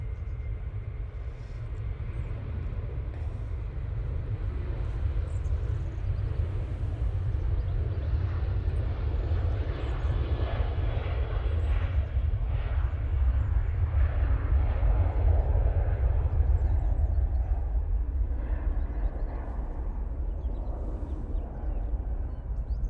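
An airliner rolls for takeoff at Manchester Airport, its engine roar a deep continuous rumble that builds gradually and holds steady at a distance, with no talk.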